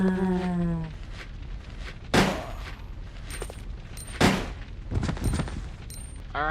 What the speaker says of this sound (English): let's test the M100Ps on a zombie